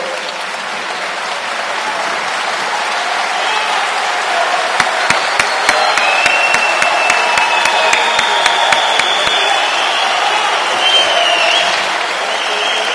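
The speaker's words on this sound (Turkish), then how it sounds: "Ayağa kaldırıp alkışlamanızı istiyorum." A large audience at a football club gathering applauds while standing, a dense, loud, continuous wash of clapping with a run of sharp, sparse claps or knocks standing out in the middle.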